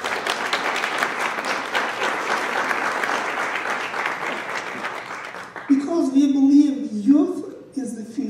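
Loud, sustained audience applause at a high-level reception welcomes a visiting group of high school students, then fades as a speaker resumes talking.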